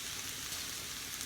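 Food frying on low heat in a pan gives a soft, even sizzle, a faint continuous hiss with no talking.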